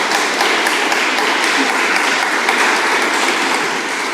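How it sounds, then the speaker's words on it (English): Audience applause at a research-policy meeting: dense, steady clapping from many hands throughout, loud and even, with no gaps. "I hope that you hear a big applause from us here."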